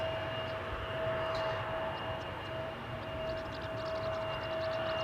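A JetBlue airliner, likely bound for Boston, takes off from Schiphol's Polderbaan with a faint, distant engine roar and a steady high whine, while small clicks and chirps flicker over the top; nobody talks.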